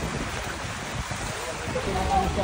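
A boat moves over flood water during relief operations in a flooded area, heard as a steady, rushing broadband roar of water and wind noise that stays constant throughout with no clear voices.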